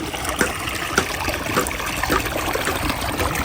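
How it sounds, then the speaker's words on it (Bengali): Water trickles and gurgles from a rice field beside an overgrown path outdoors, a continuous nearby rushing flow with small irregular splashes and no talk. "ধান কাট থেকে পানি আসতেছে"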